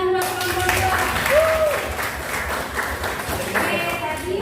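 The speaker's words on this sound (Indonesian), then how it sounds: "tepuk tangan buat kelompok 2" A school class clapping for a group of students, steady mixed applause under a busy room with voices and a short tonal whistle or squeal partway through.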